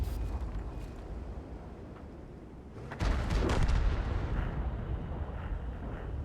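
In World of Tanks, a tier 10 tank gun fires on the Himmelsdorf city map as a single heavy boom, followed by a sustained rumbling roar of battle noise.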